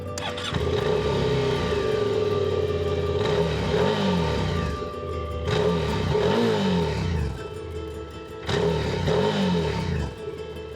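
Suzuki SV650X motorcycle engine while riding: a loud, close engine roar that rises and falls through several revving surges and gear changes, with no talking.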